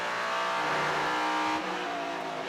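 Prototype and GT race cars at the 2015 Lone Star Le Mans qualifying session scream past with high-revving engines, a loud pass that fades slightly into a steady engine drone.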